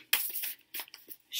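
A tarot deck is shuffled up close in a few quick riffling bursts separated by short pauses, crisp papery flutters that start and stop.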